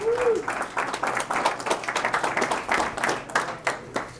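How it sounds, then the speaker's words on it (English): An audience at a coaches clinic claps in a round of applause for a teenage participant, individual hand claps standing out in a loose, uneven rhythm, moderately close and fairly light. "let's give a round of applause"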